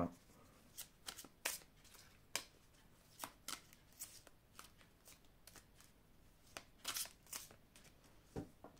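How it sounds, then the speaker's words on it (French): Angel oracle cards are shuffled close by in quick, crisp riffling bursts repeated at irregular intervals, quiet overall with no talking. "je vais prendre ici une carte des anges de l'amour"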